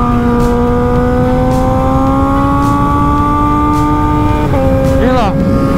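A Kawasaki ZX636 motorcycle on a warm-up lap at Mandalika circuit, its engine droning loud and close with a slowly rising pitch, then a quick gear change and a short rev near the end.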